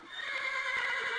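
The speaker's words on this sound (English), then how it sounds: "you got your horses, which have unicorns, pegasuses, nightmares, all sorts of cool looking horses" A horse neighs and whinnies from a Minecraft creatures mod, a loud, close, bright call held for about a second with no talk over it.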